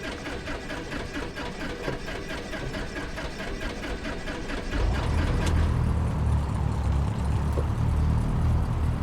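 A Cessna 172 engine in X-Plane 12 cranks with a rapid mechanical whir, then catches and settles into a steady deep droning idle, loud and continuous with no talk.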